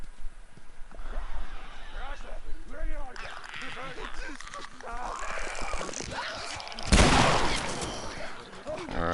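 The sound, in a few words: gunfire in a video game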